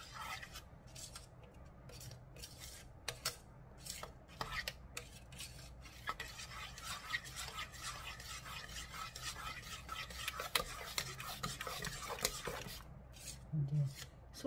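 A homemade kitchen soap mixture of used coffee grounds and soda is stirred by hand, giving repeated close scraping, rasping strokes against the container in an uneven rhythm with no speech.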